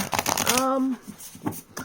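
A Simplicity Tarot card deck is shuffled by hand in a short, close, rustling riffle, with a voice heard briefly over the start.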